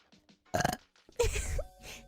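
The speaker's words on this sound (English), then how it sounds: "I keep burping." A person burps loudly twice in close succession, short throaty eructations standing out between faint mumbled sounds, close to the microphone.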